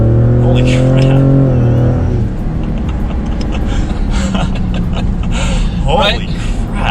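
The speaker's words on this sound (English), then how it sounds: "we'll go ahead and bump it into sport, do a little bit of acceleration" Ford Raptor truck in sport mode accelerating hard, a loud rising engine roar heard from inside the cab, followed by people talking over the fading drive noise.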